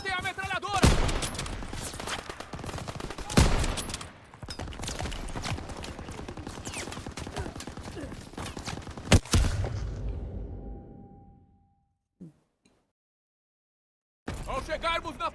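Dense, continuous gunfire and battle noise from the video game Call of Duty WWII, with rapid machine-gun bursts and heavy blasts that fade out into silence near the end before the firing suddenly resumes.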